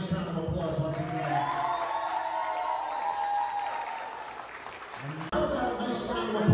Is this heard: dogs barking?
no